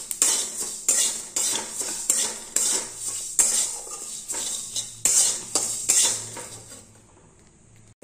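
Whole mustard seeds, fennel, a little fenugreek, dried red chillies, cumin and coriander being fried in a wok, with a metal spatula scraping and clinking against the pan in a steady rhythm about twice a second, close and alone, with no voices.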